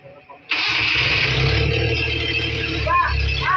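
A car engine cranks and catches after a brief pause, then runs on steadily and loudly during an ignition distributor timing check, with a voice heard faintly at the start.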